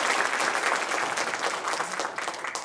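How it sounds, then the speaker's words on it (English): Audience at a zoo speaker-series event claps in a dense, steady round of applause that tapers off slightly near the end. "So let's give them a round of applause."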